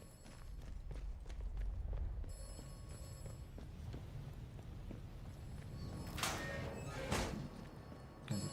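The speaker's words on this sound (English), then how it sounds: "There's a telephone ringing." Telephone bell ringing inside the AtomFall video game, two bright bursts of ringing heard over game ambience with footsteps and clatter, moderately loud.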